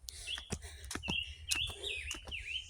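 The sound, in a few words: birds singing near a waterfall in Hong Kong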